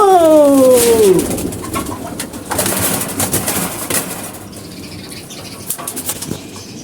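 Pigeons in a loft give a loud, close call that slides downward at the start, followed by softer cooing, rustling and brief flutters, with no voices.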